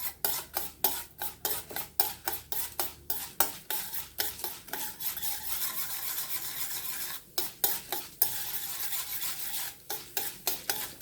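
Urad dal lentils dry-roasting in a pan, stirred with a metal spoon in quick rhythmic scrapes and rattles over a soft sizzle. The strokes come in repeated bursts with brief pauses, close and fairly loud, with no talk.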